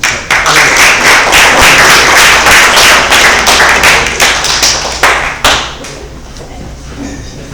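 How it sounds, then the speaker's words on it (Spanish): Class audience clapping after a counseling lesson, loud and close with rapid overlapping claps that fade out after about five seconds, leaving quieter room sound and faint talk. "Desen un aplauso a ustedes."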